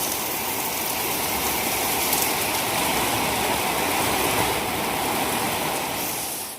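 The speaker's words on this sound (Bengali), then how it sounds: "ছাদ থেকে নামতে নামতেই বৃষ্টিটা এসে গেছে" Heavy rain pours down just after clouds gather, a dense, steady hiss of drops drumming on surfaces, close and even from start to finish with no voices.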